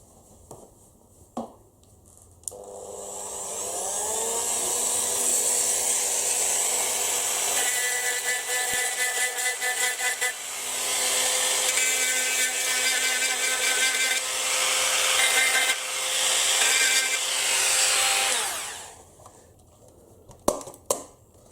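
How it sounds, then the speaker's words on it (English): A Dremel rotary tool grinds off two small plastic tab heads while a 1/18 scale Hobby Design Huracan model car is taken apart, a steady high whine running about sixteen seconds with a brief dip midway, alone and close. "I'm just going to use the Dremel again and just grind these two little heads off"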